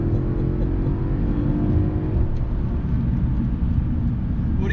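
A Mercedes-Benz AMG CLS 63 S accelerates hard, its engine building into a deep, loud, steady roar with a rising drone heard from inside the car.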